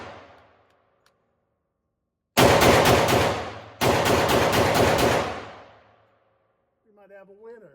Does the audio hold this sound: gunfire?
yes